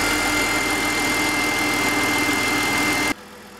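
A BMW E46/E39 engine after a gasket change and Vanos rebuild idles steadily and loudly up close, a constant droning hum that suddenly cuts off near the end.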